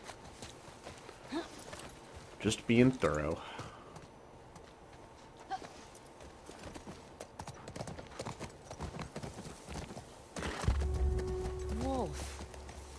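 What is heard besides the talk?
horse hooves clip-clopping, video game The Last of Us Part II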